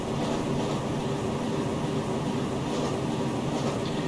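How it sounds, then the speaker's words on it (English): Class 66 diesel locomotive in Train Simulator Classic, a steady, loud, continuous rumbling drone with no breaks or talk. "we've got the engine in idle"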